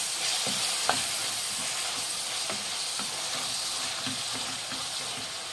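Capsicum and chopped tomato fry in a pan while being stirred, giving a continuous close sizzle with soft scraping strokes of the spoon at an irregular rhythm.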